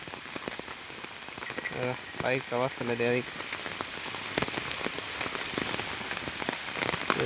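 Rain pours steadily over a farm where a tractor is being loaded, a broad hiss of drops hitting surfaces throughout, with someone speaking briefly over it and a few short tonal bursts in the middle.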